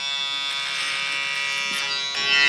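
An Andis Fade Master electric hair clipper buzzes steadily and loudly up close during a skin fade, a bright continuous hum that shifts slightly near the end, with no talking.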